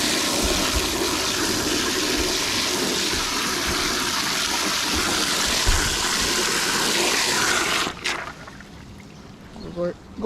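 Water gushes steadily into a bucket for several seconds with a broad rushing sound, then cuts off abruptly, leaving a quiet room with a few faint clanks.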